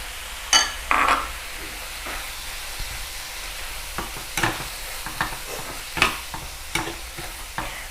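Thai nam prik ong chili paste with minced pork and tomatoes simmers in a pan, with a soft steady sizzle and occasional close scrapes and clicks from stirring.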